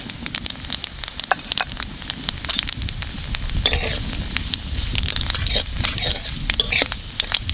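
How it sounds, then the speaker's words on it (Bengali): Panch phoron and dried red chillies sizzle in hot oil for a bottle gourd dish, a loud close crackling hiss dotted with sharp spitting pops and stirring scrapes throughout. "তেলের মধ্যে দিয়ে দেবো কটা পাঁচ ফোড়ন আর শুকনো লঙ্কা।"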